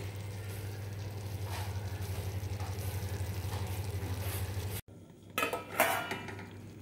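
A steady low stovetop hum cuts out abruptly, then a metal lid clanks and rattles onto a pot of tender bottle gourd curry in a few quick knocks.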